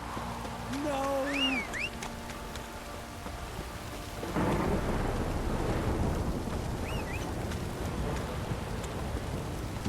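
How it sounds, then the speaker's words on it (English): Heavy downpour with rolling thunder in a stormy scene from The Witcher 3, a steady roar of rain that swells louder midway, with brief voices and creature-like cries over the top. "This downpour's a bastard, it is."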